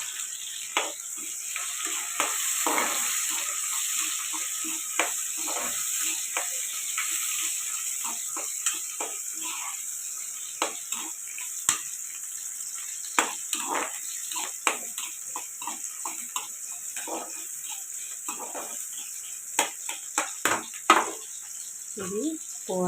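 Marinated curry with masala and yogurt fries in a pan, a steady sizzle under frequent scraping and stirring clicks that grow busier toward the end.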